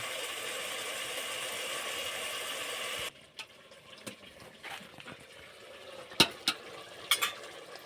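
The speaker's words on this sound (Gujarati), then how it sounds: "તમે જોઈ શકો છો આપણા રીંગણા ચડે છે" Whole eggplants cooking in a pan with soaked chili, turmeric and salt outdoors on a farm, a steady sizzle for the first few seconds, then quieter bubbling with scattered sharp clicks and pops.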